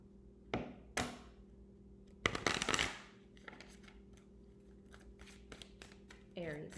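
Tarot cards are shuffled close up in a few sharp riffling bursts and taps, separated by pauses, with a low steady hum underneath.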